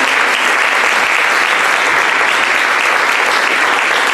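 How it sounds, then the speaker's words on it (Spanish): Church congregation applause, a loud, dense wash of many hands clapping at once, sustained evenly throughout with no pauses and no voices on top. "Dale un aplauso a Dios"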